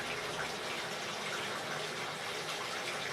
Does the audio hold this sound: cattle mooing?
no